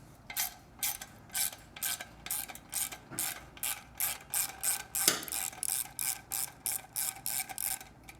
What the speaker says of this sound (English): You get your 10mm socket and loosen up that clamp.